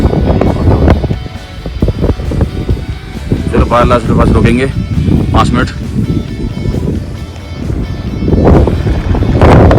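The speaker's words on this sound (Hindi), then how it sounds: "और यहाँ पर बहुत ठंडी हवा चल रही है" Cold mountain wind near Baralacha pass in Ladakh roars and buffets the microphone as a steady low rumble, running continuously under someone talking.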